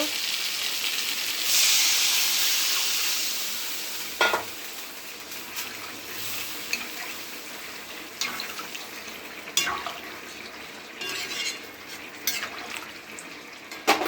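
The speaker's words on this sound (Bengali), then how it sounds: "কষা হয়ে গেছে, এবার জল দিয়ে দেব।" Water poured into a hot pan of sizzling rohu fish curry, starting with a loud hissing burst that fades into softer simmering, with scattered clinks and scrapes of a utensil against the pan.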